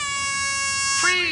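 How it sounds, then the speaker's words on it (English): An air horn blasts in one sustained, loud, bright tone, briefly rising in pitch near the end. "He was now blasting the air horn"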